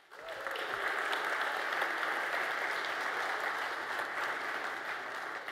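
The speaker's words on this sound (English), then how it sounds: "So give him a round of applause, please" A conference keynote audience breaks into applause, clapping swelling quickly and holding as a steady, moderately distant wash for several seconds.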